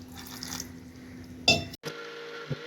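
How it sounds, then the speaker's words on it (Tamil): Water is poured into a mixer jar holding green gram, a short trickling splash followed by a brief clink, close and fairly quiet. "இதில் இன்னும் கொஞ்சம் லைட்டாக தண்ணி ஊற்றிக்கிறேன்"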